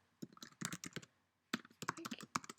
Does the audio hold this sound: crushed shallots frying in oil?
no